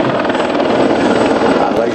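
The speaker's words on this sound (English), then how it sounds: "This particular aircraft, CH-53, from Helicopter Squadron 64 at Holtzdorf." A CH-53 military helicopter from Helicopter Squadron 64 at Holtzdorf, at the ILA 2016 air show, gives off a loud, close, continuous rotor and turbine roar, with a voice faintly mixed in.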